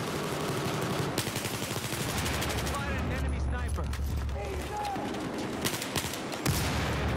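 Rapid MP4 submachine gun fire in Battlefield 4, dense overlapping bursts running almost continuously through the clip with a low booming rumble beneath, loud and close, with a voice talking over parts of it.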